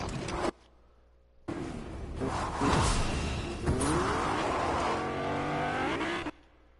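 A car in the Fortnite video game drives and accelerates, its engine a steady roaring drone with rising pitch sweeps, loud and continuous before cutting off abruptly.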